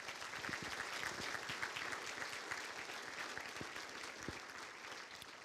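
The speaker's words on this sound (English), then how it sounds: "Let's give these fine athletes and coaching staffs another round of" Warm applause at a university scholarship banquet for athletes and coaching staffs, steady clapping from a seated audience filling the room with a few sharper individual claps standing out.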